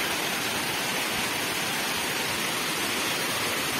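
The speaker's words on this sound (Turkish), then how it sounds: "İşte buradan baktığımız zaman işte ana şelaleyi buradan görüyoruz abi" Broad, steady roar of a waterfall near a temple in Chiang Mai, Thailand, heard from close by as an unbroken rushing wash with no voices over it.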